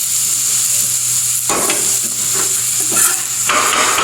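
Keema fries with crushed green chilies on a tawa in a loud, dense sizzle, and scraping, stirring bursts come in every second or so.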